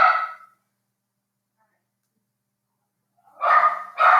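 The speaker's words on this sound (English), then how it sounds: "dogs are barking" Dogs bark loudly nearby in short bursts: one bark at the start, then a pause of about three seconds, then two more barks close together.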